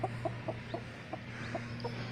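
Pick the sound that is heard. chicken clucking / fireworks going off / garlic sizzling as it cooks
chicken clucking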